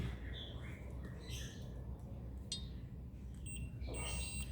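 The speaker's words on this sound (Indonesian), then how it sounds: "Nah, ini sudah short ya, sudah konslet. Normalnya tidak bunyi seperti ini." A shorted off-grid solar inverter with failed MOSFETs gives off an abnormal sound: faint, irregular electronic chirps and squeaky tones come and go over a low hum, with no voices.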